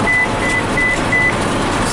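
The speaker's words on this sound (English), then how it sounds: "And now my phone's beeping." A phone beeps in a quick series of short, high tones inside the cab of a New Holland 8160 tractor pulling a BR780 round baler, riding over a steady engine drone.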